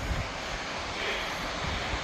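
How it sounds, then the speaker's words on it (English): Waterfall at Dinkey Creek: a steady, broadband rushing roar of falling water fills the whole clip at an even level, with no voices over it. "Now we're at the waterfall."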